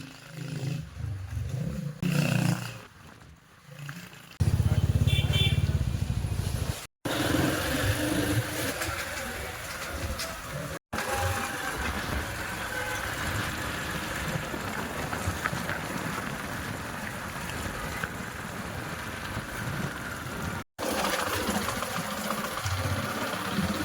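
A motorcycle engine runs at a steady, low, rough rumble, fairly quiet and continuous, with a brief louder burst early on and a few tiny dropouts. No speech.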